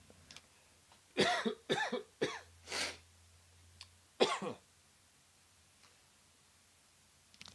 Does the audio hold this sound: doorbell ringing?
no